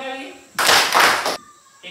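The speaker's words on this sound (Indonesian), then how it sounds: "Tepuk 2 kali." A classroom of children claps hands twice in quick unison, a loud close burst of two claps between stretches of a teacher speaking.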